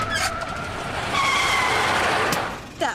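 Tires on a classic car named Betsy skid and squeal as the steering wheel suddenly twists on the road, a loud sustained screech over engine noise that swells and then cuts off.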